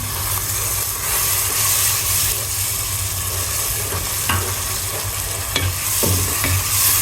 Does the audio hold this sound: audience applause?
no